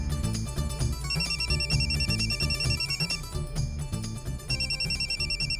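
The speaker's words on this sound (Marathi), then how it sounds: "आईचा फोन" A phone ringtone plays loudly and close, a repeating electronic melody over a beat in two bursts with a brief gap, no voices.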